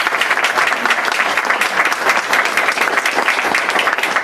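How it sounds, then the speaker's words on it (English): A round of applause from an audience gathered at an evening event: loud, continuous, dense clapping from many people, sustained evenly throughout. "just a round of applause"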